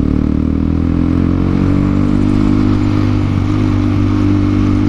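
A Honda CBR 150R motorcycle engine idles steadily while warming up after sitting unused, a loud, close, continuous low mechanical hum with faint clatter and no voices.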